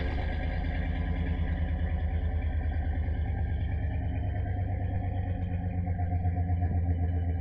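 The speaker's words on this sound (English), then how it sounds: "You can hear that it's cammed. It sounds pretty good." A cammed 2003 Dodge Durango engine with a muffler, its motor previously blown and rebuilt, idles steadily with a loud, rhythmic, choppy low rumble that runs unbroken throughout.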